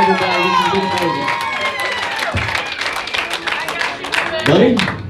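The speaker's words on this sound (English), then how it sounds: "give yourselves a round of applause" A crowd at a live show claps and cheers, with whoops and shouts rising over a loud, busy room while voices carry through the noise.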